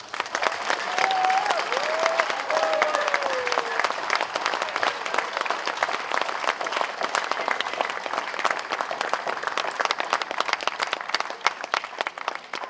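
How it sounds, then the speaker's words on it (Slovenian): A large audience gives athlete Marko Bezjak a sustained round of dense clapping that holds steady for the whole stretch, with a short whistle near the start. "dajmo še en aplavz"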